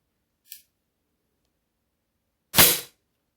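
Diana LP8 Magnum air pistol fired through a chronograph: one sharp, loud crack standing alone in silence, preceded by a faint brief click.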